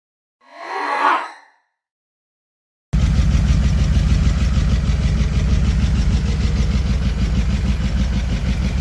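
A 1923 Ford T-bucket hot rod with a 350 V8, dual carbs and side pipes starts up after a short burst of noise and settles into a loud, steady, throbbing idle.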